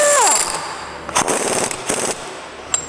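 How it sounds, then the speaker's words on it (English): A pneumatic air torque wrench tightens a nut on a Toyota Tacoma transfer case, giving loud, close rapid hammering bursts with short gaps between them. "we're going to use my air torque wrench here"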